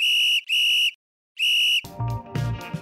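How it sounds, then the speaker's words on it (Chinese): Whistle function of a construction-site traffic baton, used when directing road work and pipe pouring: three loud, piercing electronic whistle bursts close up with a short gap before the last, then a clattering handling noise. "我们会希望在吊挂的时候有吹哨的功能。"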